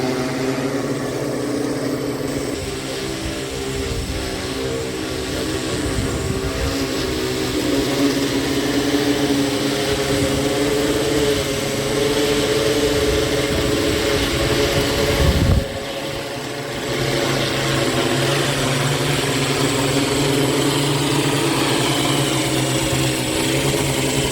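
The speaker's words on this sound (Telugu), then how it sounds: "ఎయిమ్స్ నుంచి శరవేగంతో డ్రోన్ ఇందిరానగర్ యూపీఎస్సీకి దూసుకువచ్చింది" An AIIMS medical delivery drone flies in to an urban health centre in Indiranagar. A steady, moderately loud mechanical rotor hum with a faint whine holds throughout, dipping briefly once near the end, and no voices are heard.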